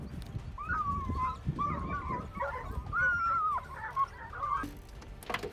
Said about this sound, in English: three hounds suddenly tensed up, their noses touching the ground, and let out a loud bark, tearing apart the still morning air